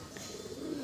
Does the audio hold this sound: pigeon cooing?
yes